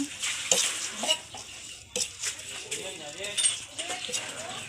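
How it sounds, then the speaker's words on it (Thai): Small shrimp dry-roasting in a pan for a Thai nam prik narok chilli paste, a light rattling and scraping as they are stirred, with a faint sizzle underneath and someone talking over it. "ใส่กุ้ง คั่วให้หอม"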